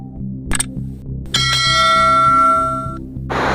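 A notification bell rings out clearly twice, the second strike sustaining into a bright, ringing decay over a low musical bed, followed by a short whoosh.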